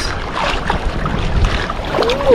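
Wind and choppy waves wash and slap around a small fishing boat at sea, a steady close rushing noise with irregular surges; no talk is heard.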